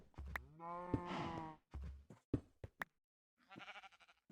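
Minecraft cows moo in a pen, several long, low, nasal calls with short grunts between them, loud and close, and no talk alongside them.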